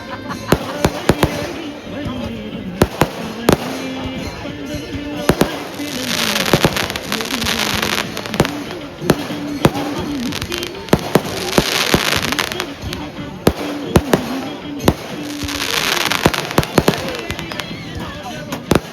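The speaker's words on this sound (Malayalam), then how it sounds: "അപ്പോഴേക്കും എന്താ പടക്കൊക്കെ പൊട്ടി തുടങ്ങിയിട്ടുണ്ട്" Firecrackers burst at a Pooram temple festival in Kerala, sharp loud cracks going off in irregular rapid volleys over nearly twenty seconds, with crackling bursts and crowd chatter and talk underneath.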